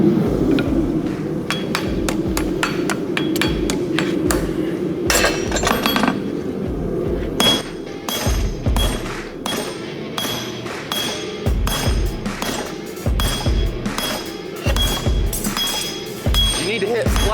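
A farrier's hammer strikes a horseshoe on an anvil at a forge. Loud, ringing metallic clinks come in irregular bursts and rapid runs of blows, with people talking between and over them.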